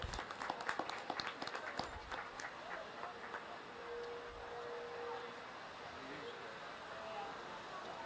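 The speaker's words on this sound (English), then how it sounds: "Let's give them a round of applause." Audience applause at a rabbit show, a burst of fairly close clapping in the opening two seconds that fades into a roomy hall murmur and background noise.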